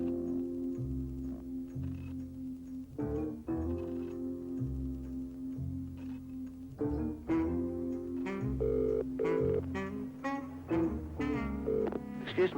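A telephone ringing out on a call to a radio station, with repeated tonal rings and dial tones in a steady pattern, fairly quiet and heard alone.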